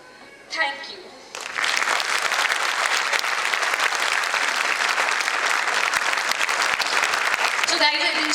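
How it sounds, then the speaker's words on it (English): Sustained applause from an audience filling an auditorium, loud and steady for several seconds after a brief burst of noise and a pause at the start. "huge round of applause."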